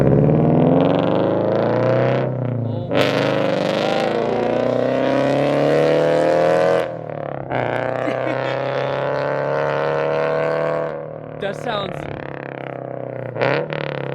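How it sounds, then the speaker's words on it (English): Subaru FRS fitted with an unequal-length exhaust rumbles and revs loudly, swelling and dropping in pitch with each throttle blip while people talk excitedly over it. "That is literally the best exhaust note, honestly."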